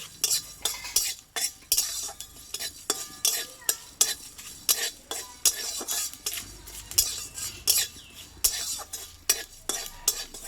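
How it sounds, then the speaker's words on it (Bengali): Bay leaf, whole garam masala and panch phoron fry in a pan for a kochu dish while a metal spatula scrapes and clatters in a quick repeated rhythm, loud and close, over a faint sizzle. "হাফ চামচ মতো পাঁচফোড়ন দিয়ে এগুলো একটু হালকা করে আমি ভেজে নেব"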